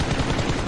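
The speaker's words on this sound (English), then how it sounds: "You hear the sounds of gunshots, but no one is really shooting back," Gunfire in PUBG Mobile during a team match bursts in a rapid, dense volley, loud and continuous for a brief moment.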